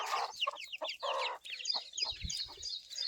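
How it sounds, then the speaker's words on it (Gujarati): Several roosters and hens cluck and chirp busily at a family farmhouse in the countryside, a dense close chorus of overlapping calls with a few low thumps near the end. "તો કાકીના ઘરે બહુ બધા કુકડા છે"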